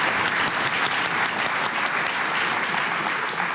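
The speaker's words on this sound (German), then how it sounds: "Und Applaus, meine Damen und Herren" Steady, dense applause from a studio audience fills the whole stretch, loud and continuous with no voices standing out.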